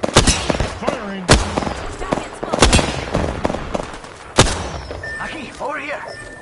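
Apex Legends combat fire: sharp, loud gunshots in irregular single cracks and short bursts, with game sounds and voices in between and a fading tonal effect at the end.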